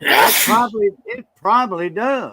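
A single sharp, close sneeze bursts out at the start, quickly followed by casual conversation between people.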